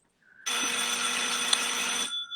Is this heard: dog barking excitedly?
no